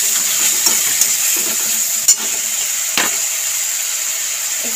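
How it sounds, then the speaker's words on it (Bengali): Grated onion sizzles and fries steadily in hot oil in a pan while a Bengali mourola fish curry is cooked, with a few sharp scrapes of stirring breaking through the constant close hiss. "পেঁয়াজটাও ভেজে নেব।"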